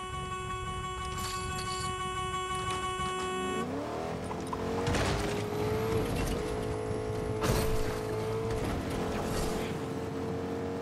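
Truck driving in a video game, with a steady engine drone that rises in pitch as it accelerates, with tire and mechanical noise layered over game music, continuous and up close.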